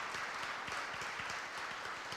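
Audience applause at an awards ceremony, a steady wash of many hands clapping at moderate level, filling the whole moment without a break.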